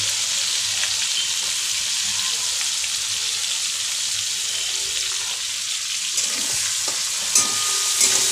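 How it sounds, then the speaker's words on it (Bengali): Dried fish fries in a pan with a steady, close sizzle of hot oil that stays even throughout, broken near the end by a few light clinks and stirring scrapes. "এবার মাছগুলোকে ছেড়ে দেব মাছগুলো লাল লাল করে ভেজে নেব"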